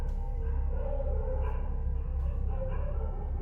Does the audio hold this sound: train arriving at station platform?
no